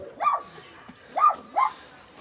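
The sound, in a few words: dog barking at a partially burned kennel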